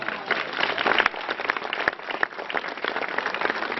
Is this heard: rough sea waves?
no